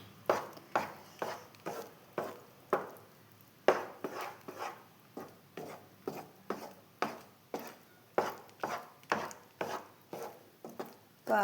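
Jackfruit seed halwa being stirred in a pan, a spoon scraping the pan in a steady repeating rhythm of about two strokes a second, close and moderately loud, with no voices.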